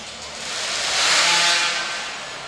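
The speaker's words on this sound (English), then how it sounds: "they're getting revved up in the background. That first hot saw lit off for the warm-up session" A hot saw engine revs during warm-up at a timber sports championship, a broad roaring whine that swells and then eases, moderately near with no talk over it.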